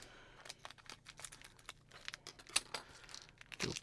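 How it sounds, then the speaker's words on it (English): A small plastic bag of kit parts for a large-scale Optimus Prime model is cut open, with scattered close crinkles, snips and faint rustling taps, quiet and irregular, no voices. "We're gonna grab this little bag of parts here and cut those open."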